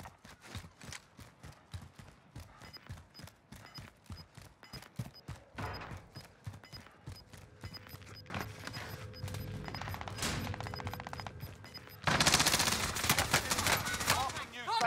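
Rapid bursts of gunfire in the battle royale shooter Warzone: Rebirth, a string of sharp close cracks through the first half, denser firing and a loud blast-like burst near the end.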